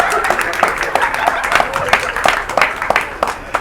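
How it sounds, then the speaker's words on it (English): Scattered audience clapping at a stand-up comedy show in a food court in Muscat, Oman, steady and moderately loud with crowd voices murmuring underneath throughout. "Okay, clap for it."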